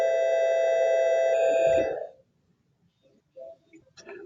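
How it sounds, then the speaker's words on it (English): A school bell rings with a steady electronic tone for about two seconds, then cuts off, leaving near silence with a few faint, soft noises. "School bell."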